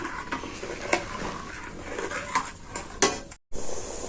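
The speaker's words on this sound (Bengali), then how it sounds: "এবার আমি একটু নাড়াচাড়া করে এটা মিশিয়ে নিলাম।" Milk mixture stirred in a pot with a spoon, scraping and clinking against the metal in uneven strokes, with a faint sizzle underneath and a brief break near the end.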